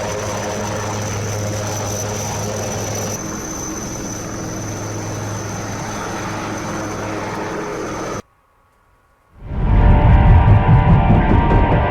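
An army helicopter lifts a body from a river island. Its engine and rotor drone stays loud and continuous for about eight seconds, then cuts out. After a short silence, a loud rushing roar follows, probably heavy rain or rushing water.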